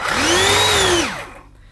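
A Gtech AirRam cordless vacuum cleaner with a motorized power nozzle whines up to speed, holds a steady high tone for about a second, then winds down into quiet, heard up close with no talking.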